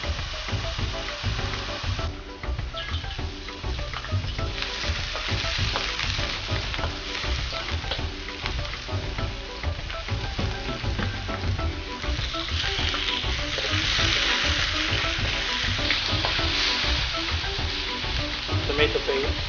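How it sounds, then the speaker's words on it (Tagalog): Carrots sizzle and fry in a pan for a Filipino chicken pochero, a continuous crackling hiss with stirring clatter throughout, growing louder toward the end, with faint talk in places. "It's really frying the carrot."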